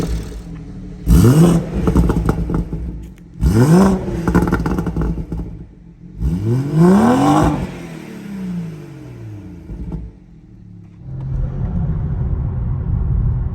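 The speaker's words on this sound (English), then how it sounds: "just driving around, warming up the car a little bit" A BMW M240i with a B58 engine drives around while warming up, its engine note sweeping upward in three strong revving pulls separated by quieter lulls, ending in a steady rumbling drone, with no talking.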